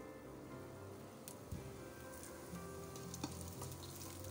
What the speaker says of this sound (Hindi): अब इसमें मैं करी पत्ता डाल रही हूँ।